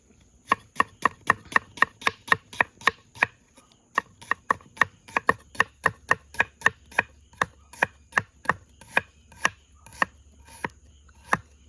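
Onion being chopped into pieces with a knife on a board outdoors at a campsite, a long run of sharp, evenly paced close chops with one brief pause, loud and alone.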